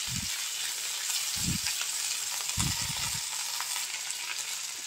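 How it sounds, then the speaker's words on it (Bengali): Drumstick leaves sizzle and crackle steadily in hot oil in a pan, a continuous bright frying hiss with a few low thuds from stirring or handling; no talking. "তো আমি এখানে অল্প কিছু পাতা দিয়ে দিলাম"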